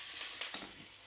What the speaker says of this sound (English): Get that sizzling away.